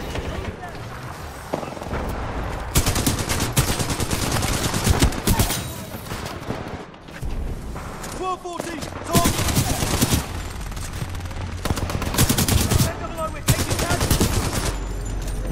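Gunfire in the video game Titanfall 2: repeated bursts of rapid automatic shots and heavy bangs in clusters, loud and close, with someone talking over the fighting.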